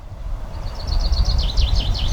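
A blackbird sings on a branch, a faint warbling phrase rising and falling in the background over a low, steady outdoor rumble.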